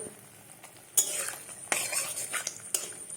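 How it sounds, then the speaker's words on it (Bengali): Three eggs frying in mustard oil in a wok, a close sizzle broken by sharp spatula scrapes and clinks against the metal at irregular moments. "3টা ডিম ছেড়ে দিয়েছি কড়াইয়ের মধ্যে। তো এগুলো একটু ভালো মতন ভেজে নেব"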